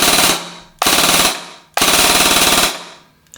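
Kriss Vector Krytac airsoft gun firing full auto in three loud, close bursts of rapid mechanical cracks, each lasting under a second, separated by brief pauses.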